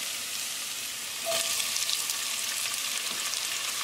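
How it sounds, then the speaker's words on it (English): Chopped onion and garlic frying in a pan for a chickpea and black bean dish, a steady close hiss of sizzling with a brief scrape of stirring partway through. "Keep it moving and keep cooking until the onions are nicely translucent."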